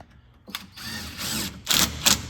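A ratchet turns a 10mm socket to tighten a clamp on a Mazda MX5 Spec Miata build, giving several quick close clicking pulls in bursts, each louder than the last.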